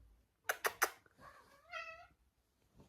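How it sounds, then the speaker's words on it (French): A house cat gives one drawn-out, rising meow close by, just after three quick sharp taps, in a quiet room. "et mon chat."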